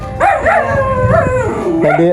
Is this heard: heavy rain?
no